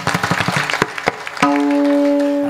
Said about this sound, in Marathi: ह्याच्याकरता टाळी वाजवायची